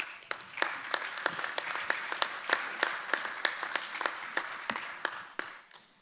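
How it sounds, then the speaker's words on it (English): Applause at a startup tournament finale, with a thin audience producing distinct individual claps in a loose, fairly regular rhythm over a soft background of scattered clapping. "Round of applause again, please."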